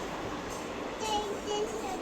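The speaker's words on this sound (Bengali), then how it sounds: "ট্রেন দেখেছো ট্রেন যাচ্ছে দেখেছো" A steady, broad rumble and rush of a train passing nearby, with faint voices in the background.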